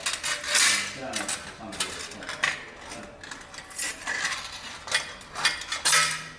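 A Harley-Davidson Softail exhaust heat shield on a 2018+ Milwaukee-Eight is pulled free after its clamps are opened, giving close metallic scraping, rattling and clinking in irregular bursts of loud clattering handling noise.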